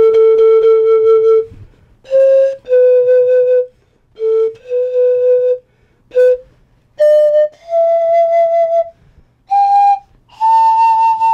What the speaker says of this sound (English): this is a panpipe. It's nothing but a flute. Different length tubing. You blow across the end of the tubing.